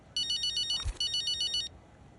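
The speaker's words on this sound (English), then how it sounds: "What's this phone call going to be about?" A phone rings in the F1 Braking Point 3 video game, sounding as two bright electronic ringtone bursts separated by a brief low thump, with no talking.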